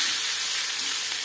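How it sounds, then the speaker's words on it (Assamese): Chowmein noodles stir-fried over a high flame, a loud continuous close sizzle with a bright hissing texture throughout, no voices. "এতিয়া অকনমান হাই ফ্লেমতে এনেকৈ ভাজি লম"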